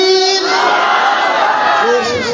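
A large crowd shouts back in unison in answer to a religious slogan chant at an open-air gathering, a loud, sustained burst of many voices.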